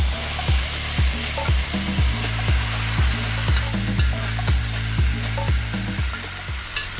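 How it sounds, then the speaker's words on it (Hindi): Marinated chicken hits hot spices in a kadhai for a chicken curry, giving a loud, steady sizzle close up, with regular scraping strokes of a spoon stirring through the pan. "मसालों से जब अच्छी खुशबू आने लगेगी तब हम लोग मैरिनेट किया हुआ चिकन कढ़ाई में डाल देंगे।"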